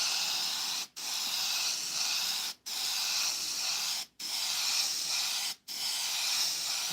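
An HP Plus airbrush sprays paint for a cloud painting's background in a steady, bright hiss, cut by four short pauses spaced roughly evenly, with no talking.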